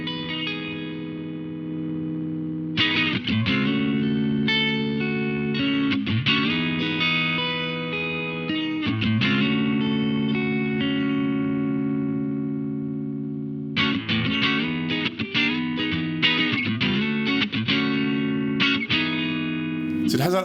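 An electric guitar plays through a gritty, compressed distortion effect, sustained chords ringing out and then a stretch of choppy, repeated strums.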